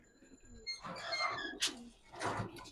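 Soft, low cooing from a pair of male silver Giribaz pigeons, close by, with a voice murmuring faintly underneath.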